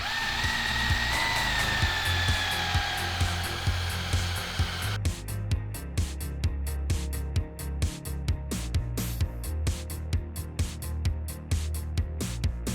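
A power drill whines steadily, then shifts into rapid stuttering bursts as the bit bites into metal suspension parts on a 1000cc mini trophy truck, loud and close with no talking.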